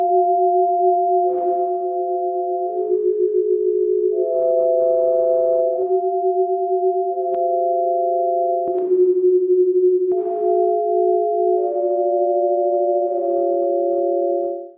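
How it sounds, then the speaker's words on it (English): Electronic sound portraits of faces, played as pure sine-like tones in pairs and small clusters, sustained and shifting in pitch every second or two, steady, clean and close with no talking. "I point at them with the eye and I write down the different notes I hear. And then I create sound portraits."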